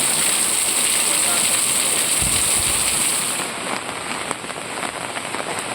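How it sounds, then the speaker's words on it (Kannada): Heavy rain pours onto a road near Basarikatte in Koppa, Chikkamagaluru, a loud, continuous hiss of dense droplets that eases slightly partway through. "ಚಿಕ್ಕಮಗಳೂರಿನ ಕೊಪ್ಪದ ಬಸರಿಕಟ್ಟೆ ಸಮೀಪದ ರಸ್ತೆಯಲ್ಲಿ ಭಾರೀ ಮಳೆಯಾಗ್ತಾ ಇದೆ"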